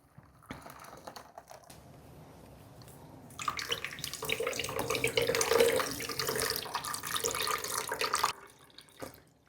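Homemade almond milk strained through a simple cotton cloth, pouring and splashing into a container: quiet at first, then a steady, fairly loud liquid rush for several seconds that stops abruptly near the end.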